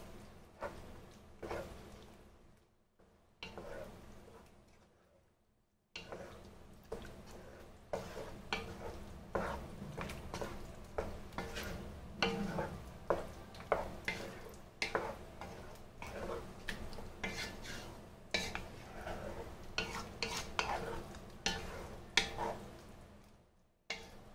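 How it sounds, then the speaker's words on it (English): Chicken mince with coriander and mint paste stirred in a pan, a steady run of close scraping and ticking spoon strokes over a soft sizzle, with a brief pause early on. "coriander and pudina paste. Mix this."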